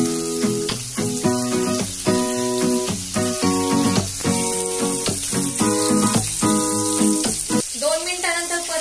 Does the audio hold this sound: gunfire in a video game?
no